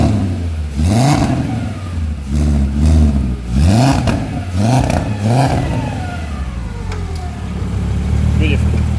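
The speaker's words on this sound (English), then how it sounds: "The VR6 Turbo definitely sounds amazing, but the VR5 Turbo definitely sounds amazing." A turbocharged VR5 engine swapped into a Toyota MR2 with a DSG gearbox revs repeatedly, loud and close, in short rhythmic throttle blips that rise and fall before settling to idle, with voices talking over it.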